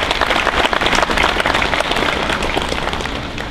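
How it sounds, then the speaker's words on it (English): An audience at a Veterans Day program applauds loudly and steadily for a community choir, a dense wash of clapping that tapers slightly toward the end. "Can we get one more round of applause"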